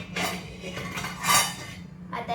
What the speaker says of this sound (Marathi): आता आपण हे भांड बाजूला करून घेऊया.